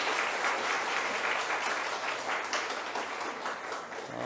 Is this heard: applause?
yes